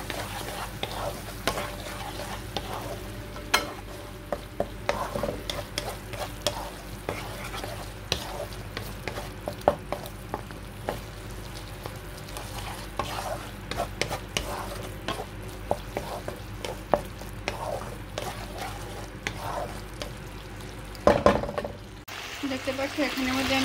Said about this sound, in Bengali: দিয়ে এটাকে ভালো করে আমি আবারও কষিয়ে নেব